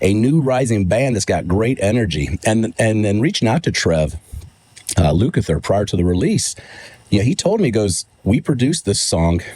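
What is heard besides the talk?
No everyday noises stand out.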